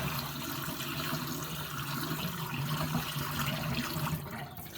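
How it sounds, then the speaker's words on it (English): Milky water carefully dumped from a container of aquarium sand, a continuous close splashing pour that runs steadily for several seconds and tapers off near the end. "You're just going to dump out the water super carefully."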